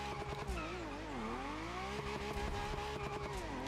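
A Maserati in The Crew Motorfest revs with a wavering engine pitch as it attempts donuts, tires squealing and skidding close up throughout.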